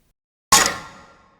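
A single percussion sample layer for a rock and metal impact hits once, sharp and loud, with a bright metallic clang that rings and decays over about a second, heard alone.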